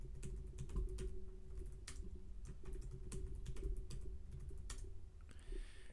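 Password being typed on a computer keyboard at a command-line prompt, a steady run of close keystroke clicks over a low background hum, with no talking.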